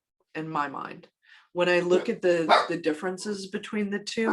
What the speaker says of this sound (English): I apologize for my dog, apparently there's somebody in the driveway.